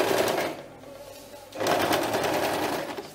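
A sewing machine stitching fabric for a bread basket: a close, steady mechanical whir in two runs with a brief slowdown between them, with no voice over it.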